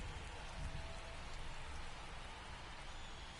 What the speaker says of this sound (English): The rain's coming down here in Pittsburgh